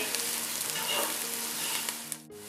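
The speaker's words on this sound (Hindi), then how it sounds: "अब हम इन्हें प्याज के सॉफ्ट होने तक पका लेंगे।" Steady, loud sizzling of onions, cinnamon and spices frying in a hot pan, continuous and close, with faint stirring scrapes.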